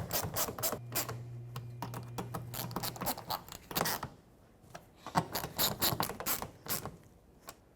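Mounting screws being tightened on mud flaps of a 2009-2014 Ford F-150, heard as rapid ratcheting clicks in bursts with brief pauses, close and clear, with no talking.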